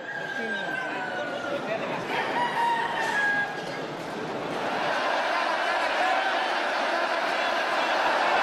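Roosters crow amid a noisy crowd at a Balinese cockfight, several long crowing calls rising over dense chatter and shouting from the spectators.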